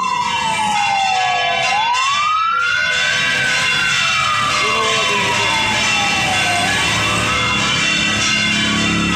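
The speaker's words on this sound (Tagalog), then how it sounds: "Pangatlong fire truck na. Bumbero." A fire truck siren wails loudly and up close at a school fire, its pitch sweeping slowly up and down in long cycles over steady engine rumble.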